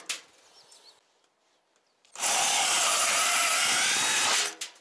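Power drill boring a hole through roofing for a support stud, a few faint taps first, then a loud, steady high-pitched whir lasting about two and a half seconds before stopping abruptly.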